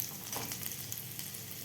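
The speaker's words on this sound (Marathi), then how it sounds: "फुल गॅसवर आपल्याला हे परतून घ्यायचे आहेत लसणाच्या पाकळ्या" Garlic cloves frying over a full flame for mushroom soup, a steady close sizzle with faint stirring crackles over a short stretch.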